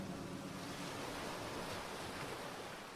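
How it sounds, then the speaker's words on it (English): Ocean waves creeping onto a shore, a steady broadband wash of surf with no breaks, moderately loud and constant. "Only the sound of the creeping waves broke through the oppressive darkness."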